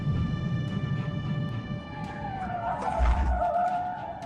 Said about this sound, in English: The police performed a pit maneuver on the targeted vehicle, causing it to lose control, hit the median, and flip over